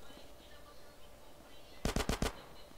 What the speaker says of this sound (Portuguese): Tá atirando em quem, louco?